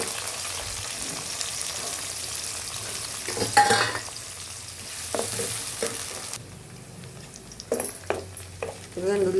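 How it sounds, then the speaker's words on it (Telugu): Onions frying in a pan with mustard seeds and cumin, a steady close sizzle with occasional stirring scrapes and clinks, dropping quieter partway through before a few louder utensil knocks. "ఇదిగోండి ఉల్లిపాయలు వేగినవి."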